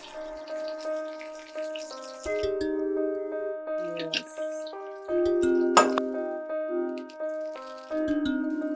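Water poured into a cooking pan on a low flame for a Telugu home-style dish brings splashing, dripping and gurgling, with a steady background tone and a few utensil rattles.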